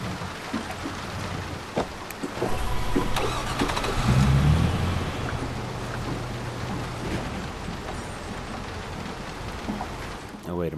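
A car engine revs and runs while driving in the video game Watch Dogs, with rain audible, the engine rising in pitch and loudness in the middle before settling to a low rumble, and a voice talking over it.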